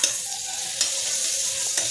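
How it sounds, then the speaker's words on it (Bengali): Butter sizzles steadily in a wok (kadai) while dhokar dalna is being started, with a stirring spoon scraping at a few points; close and fairly loud, no talking. "এবার দিয়ে দেব কড়াইয়ের মধ্যে 1 চামচ মতো বাটার।"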